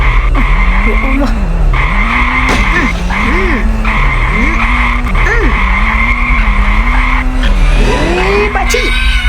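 A go-kart in the Ice Scream horror video game keeps up a loud engine drone that wavers in pitch, with a squealing skid near the end, under a constant, noisy backdrop.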